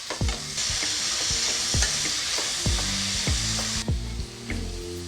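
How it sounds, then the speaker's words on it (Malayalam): Three finely chopped onions sizzle loudly in hot oil, with a steady broadband hiss broken by repeated scraping strokes of a spoon against the pan and sharp clinks; no one speaks. "ഞാനൊരു 3 സവാള ഒന്ന് കൊത്തി അരിഞ്ഞതാണ് അതിട്ട് കൊടുക്കുക"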